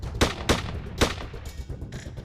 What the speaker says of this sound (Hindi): जब वो पिस्टल से खुलेआम गोली चला रहा है